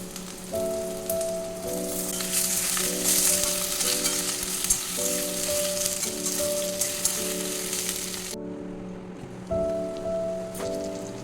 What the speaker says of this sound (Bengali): এবার এর মধ্যে আমি আলুটা ভেজে নেব তাহলে পেঁয়াজ আর আলুটা একসাথে ভাজা হয়ে যাবে